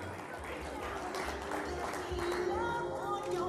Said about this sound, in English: Another round of applause for Matimba Mangani.